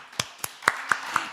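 A few hands clap in a church gathering for a newly arrived member: five separate claps, fairly close, spaced unevenly over about a second.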